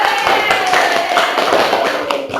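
Classroom applause for a student group, a dense patter of many small hands clapping steadily and fairly loud throughout, with some children's voices mixed in.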